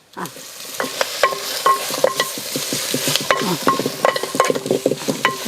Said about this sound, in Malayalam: ഇനി നല്ലോണം ഇളക്കി കൊടുക്കും